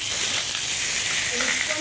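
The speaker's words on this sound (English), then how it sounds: "So you want your prawn flesh side down onto the pan." Prawns sizzle flesh side down in a hot pan, a steady bright hiss that stays constant throughout with no talk over it.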